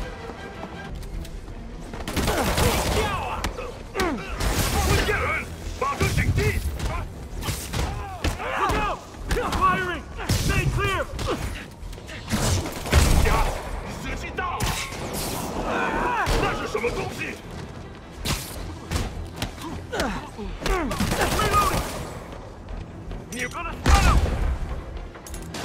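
Gunfire from the video game Marvel's Spider-Man Remastered: dense, repeated shots and bursts cracking through a busy action scene, with shouting voices and loud impacts mixed throughout.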